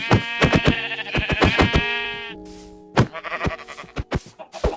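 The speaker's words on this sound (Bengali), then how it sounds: "এই যেটা ভেড়া মনে হয় আছে, ওরে মারা লাগবো।" Sheep in the video game Minecraft bleating loudly and close, a run of quick wavering bleats followed by a pause and then several more short bleats, with no voices.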